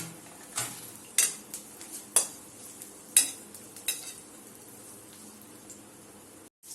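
Pieces of bottle gourd are turned and stirred in hot oil in a pan, with scattered clinks and scrapes of a utensil over a faint, steady frying hiss.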